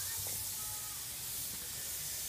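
A spray gun applies moisturizer to a leather Chesterfield sofa in a steady, continuous hiss that holds even throughout, close by and unbroken, with no talk over it.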